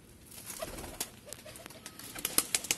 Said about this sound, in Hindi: एकदम बेहतरीन कबूतर आए